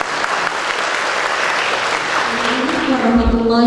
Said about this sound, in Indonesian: Zulkifli MHC, silakan berikan tepuk tangan yang mulia untuk beliau.